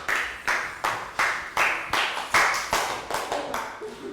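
Steady rhythmic handclapping in a Year 3 classroom, about ten sharp claps spaced evenly, close and fairly loud with no voices.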